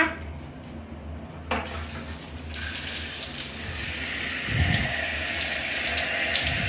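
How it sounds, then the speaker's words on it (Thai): Tap water runs steadily into a sink while someone washes their face with a carrot soap bar. The gushing starts quietly and grows fuller and louder, with some splashing near the end and no talking. "เดี๋ยวจะล้างให้ดูนะคะ"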